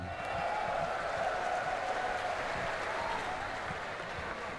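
Audience applause for boxer Chris John at a WBA featherweight title fight, a steady wash of clapping from a large crowd that holds at an even level throughout.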